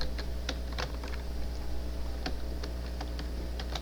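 Computer keyboard typing code: irregular bursts of close, crisp key clicks over a steady low background hum.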